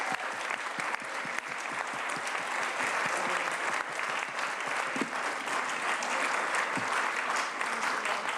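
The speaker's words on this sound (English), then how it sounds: "Let's give one more round of applause for all of our volunteers today." A crowd at an annual volunteer recognition event gives a sustained round of applause, a continuous patter of many hands clapping at moderate distance with no talk over it.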